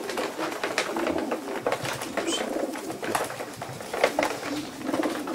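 Young racing pigeons coo and murmur steadily in a loft, several birds overlapping in soft repeated calls, with light scuffles and clicks among them.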